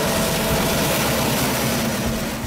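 Diesel locomotive engine giving a steady, loud low drone with broadband roar, unbroken throughout.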